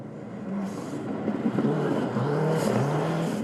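Matt Summerfield's rally car, nursing a head gasket issue, runs a stage at Rally New Zealand in the 2017 NZRC, its engine droning and shifting pitch at moderate distance with steady road noise.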